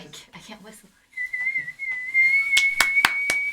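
A person whistles a sustained, wavering tune, close to the microphone, over a background of bright crowd clatter and claps near the end, after some brief speech at the start.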